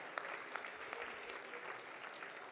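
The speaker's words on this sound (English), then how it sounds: "we got to get the hand claps for that" An audience at a global leadership forum claps, a soft, fairly distant patter of many hands that carries on steadily for a couple of seconds.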